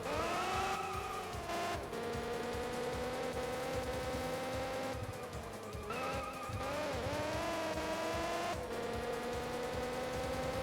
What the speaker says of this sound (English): Normally car engine sounds don't really bother me in racing games.